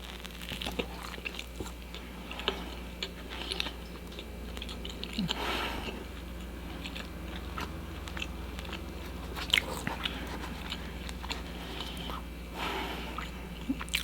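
Crispy homemade sandwich bread being bitten and chewed, quiet crunches and soft mastication repeating over a low steady background hum.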